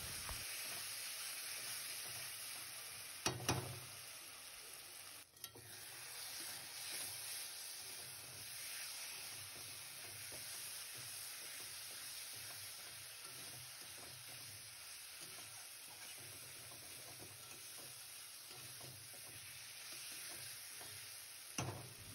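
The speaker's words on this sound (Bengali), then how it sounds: "দিয়ে আবারও ভালোভাবে মশলাটাকে কষিয়ে নেব আলুটার সাথে" Spice paste of red chilli powder, turmeric and salt sautéing with potatoes in a pan for Bengali katla fish curry, a quiet steady sizzle with a couple of brief scraping stirs, close and faint.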